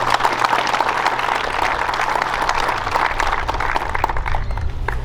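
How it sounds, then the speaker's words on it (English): Sustained applause from a crowd at an NCAA Westbrook Invitational awards ceremony, steady dense clapping filling the full stretch at even loudness, with no talking over it. "Give them a nice round of applause."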